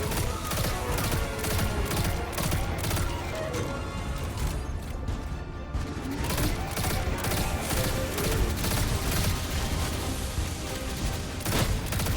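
Pulse rifle fire in Destiny 2 rattles in rapid, dense volleys with crashing impacts, loud and nearly continuous throughout, blending with a busy game soundscape.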